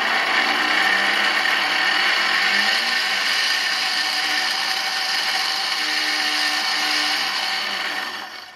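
A grinding wheel's motor on a speed controller hums and whines steadily and loudly at close range for several seconds, then winds down at the end.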